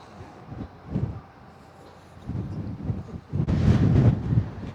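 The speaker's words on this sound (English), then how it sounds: "It's so windy. It's very windy. Keep getting gusts that almost blow you off your feet." Gusty wind on the Ring of Kerry buffets the microphone in low rumbling bursts, swelling to a loud, sustained roar toward the end.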